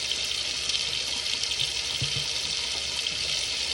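Hot water pours steadily into a sink of dishwater, a continuous close-up rush and splash with no pauses and no talking.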